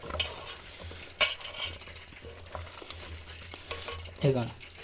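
A frying mixture of ginger, onions and cumin is stirred vigorously in a pan, with a soft sizzle beneath sharp metallic scrapes and clinks of the spoon against the pan at close range.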